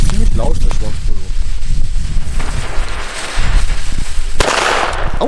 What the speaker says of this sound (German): Aber ziemlich laut, der Schwarzpulver.